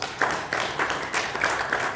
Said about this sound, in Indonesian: Sekali lagi tepuk tangan untuk Banyuwangi.